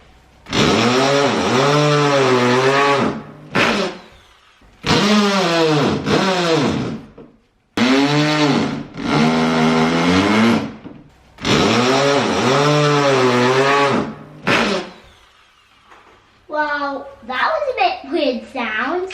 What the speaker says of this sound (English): that is screwing these babies in